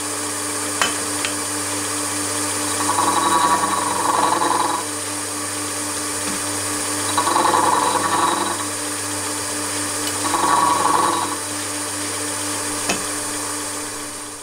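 A gear hobbing attachment on an MT50 machine, driven by a closed loop stepper motor, cuts a gear in three separate whirring, grinding passes, each lasting a few seconds, with a steady motor hum between them and a few sharp clicks.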